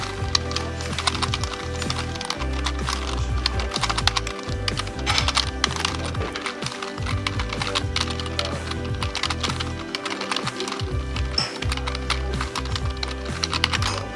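Touch typing on a computer keyboard during Keybr.com practice produces a fast, continuous stream of close, crisp key clicks with brief pauses, and no voices are heard.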